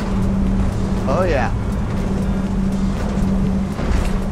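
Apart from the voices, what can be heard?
Axopar 29 boat with outboard engines running at 46 knots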